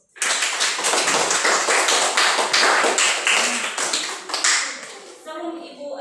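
A classroom of students clapping hands together, dense rapid claps close and loud for about five seconds before fading out, with a voice speaking briefly at the end.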